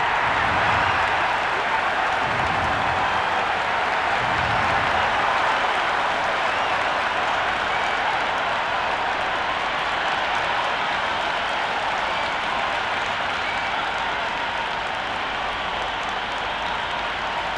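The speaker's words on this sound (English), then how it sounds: "The home crowd roar their approval as their captain decides to bat first." A stadium crowd in the Cricket 26 video game applauds at the start of a Big Bash match, a dense, steady wash of clapping and cheering that continues throughout without talk.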